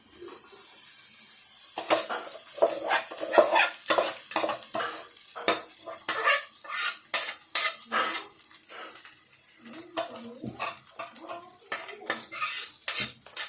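Leftover cooked rice being stirred with salt and chili powder in a pan on a low flame, with a steady run of close metal spoon scrapes and clinks against the pan, in quick irregular strokes and no talking.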